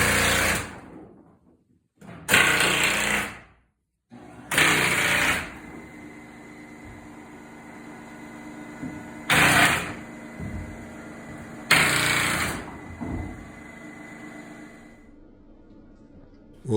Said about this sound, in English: reverse vacuum cleaner type system where the fiberglass is blown in with pressure